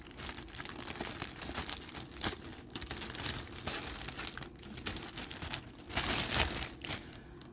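A plastic bag being cut open along a line, heard as close, continuous crinkling and crackling of the plastic with bursts of sharper rustling as it is handled and pulled apart.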